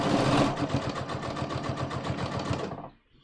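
A sewing machine runs a rapid, even stitch along the side seam of a pair of jeans, loud and close, then stops abruptly near the end.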